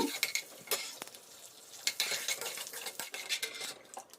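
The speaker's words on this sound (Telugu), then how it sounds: "ఆయిల్ కాగిన తర్వాత ఆవాలు జీలకర్ర వేసుకున్నాను అలాగే పచ్చెనగపప్పు మినపప్పు వేసి వేయించుకున్నాను" Mustard seeds, cumin, chana dal and urad dal frying in hot oil in a kadai, with a steady sizzle, popping crackles and the clink of a metal spoon stirring against the pan, close and fairly quiet.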